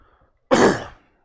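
A single short cough from a NASCAR race commentator, one abrupt burst close to the microphone, alone between stretches of silence.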